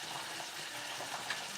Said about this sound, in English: Got a good sizzle going now.